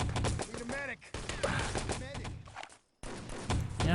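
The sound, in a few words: pistol gunfire in the video game Enemy Territory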